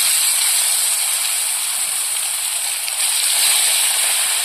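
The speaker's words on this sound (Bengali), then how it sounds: "মাছটা আমি ভাজা করে নেব।" Fish frying in hot oil in a wok, giving a steady, loud, close sizzling hiss that holds even throughout with no voices.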